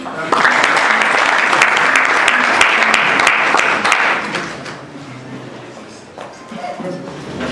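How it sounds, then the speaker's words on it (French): An audience at a ceremony in Kinshasa bursts into dense, loud applause for about four seconds before it thins out, and a voice carries on speaking afterward. "Il faut acclamer."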